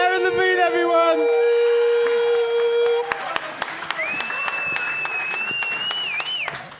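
Audience applause and cheering for a comedian at a London comedy show, loud sustained clapping from a crowd with a whoop or whistle rising over it, then thinning claps continuing to the end.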